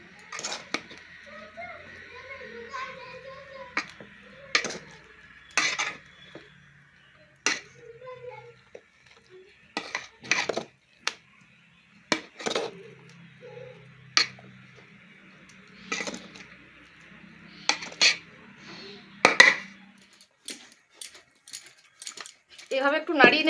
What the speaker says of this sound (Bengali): এভাবে একটু নাড়িয়ে নেবেন, তাহলে দেখবেন সব ভালো করে মিশে যাবে।